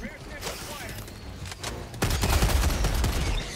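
Gunfire rattles in the Helldivers 2 video game, bursts of shots that build into a heavier, louder volley in the second half, with talk mixed in.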